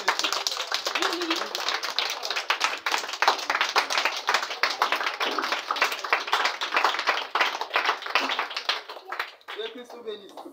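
Church congregation claps in a brisk, steady rhythm of many hands, sustained for about nine seconds before tapering off, with a voice briefly heard.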